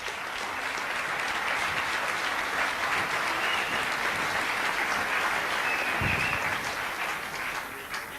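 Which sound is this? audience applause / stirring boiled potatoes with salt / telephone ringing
audience applause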